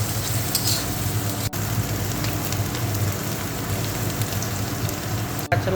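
Chopped garlic frying in oil, a dense, steady crackling sizzle that holds evenly throughout, with two brief dips in sound.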